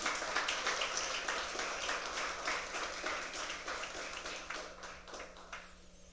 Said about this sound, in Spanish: Dele fuerte el aplauso al Señor en esta mañana.